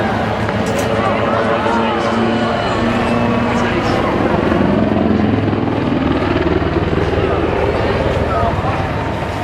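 An Army Aviation helicopter performs a backflip manoeuvre at the Southport Air Show, its engine and rotors giving a loud, continuous droning roar that swells slightly midway, with voices faintly underneath.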